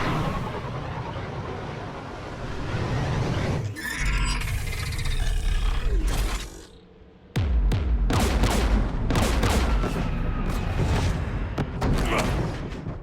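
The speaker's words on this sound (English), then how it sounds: "We're taking fire." Gunfire and explosions from anti-aircraft guns in the Mass Effect 3 video game, loud and dense, with deep booms and rapid bursts under a roaring rumble, a brief lull midway, then heavy repeated blasts.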